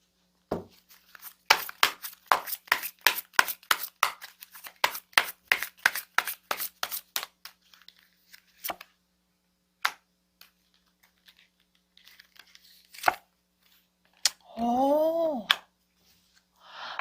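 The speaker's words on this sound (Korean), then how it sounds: "추가적으로 카드를 뽑아보도록 하겠습니다" Tarot cards are shuffled and drawn, a rapid series of crisp close card snaps and flicks followed by sparse single taps, then a short crinkling rustle near the end.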